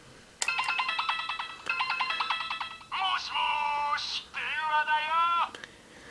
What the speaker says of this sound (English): So first you get the ringtone and Vice telling you to pick up the phone